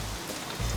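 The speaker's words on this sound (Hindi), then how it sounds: "यहाँ इतनी बरसात हो रही है" Heavy rain falling outdoors, a dense, even hiss of drops on surfaces, soft and steady through the brief moment with no voices.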